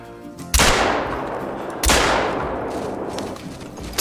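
A Caversham 12-gauge shotgun fires twice at a whitetail in a hunting video game, two loud, close booms about a second and a half apart, each followed by a long echoing decay.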